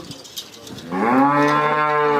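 A young cow calf gives one long, loud, close moo that rises and holds steady, coming after a moment of quiet shuffling and with no talk over it.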